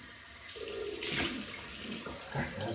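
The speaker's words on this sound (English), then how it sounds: "cold water rinse" Cold water runs steadily from a tap for a rinse during a double-edged razor shave, with the close, continuous splash shifting slightly as the flow is disturbed.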